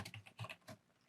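Fast, light keystrokes tapped on a computer keyboard, a quick run of close, crisp clicks of uneven loudness, with no voices.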